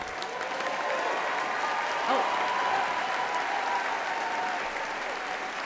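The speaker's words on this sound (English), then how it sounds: "Will our proud GGUSD parents stand for a round of applause?" Full audience applause for parents standing at a school district event, a thick continuous wash of clapping that holds steady throughout, with a short voice exclamation buried in it.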